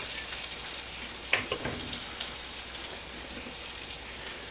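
All-purpose flour browns in sausage grease in a pan for country gravy, giving a steady, close sizzle and crackle throughout, with a few soft stirring clicks partway through and no talking.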